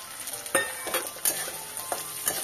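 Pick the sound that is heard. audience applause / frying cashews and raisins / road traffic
frying cashews and raisins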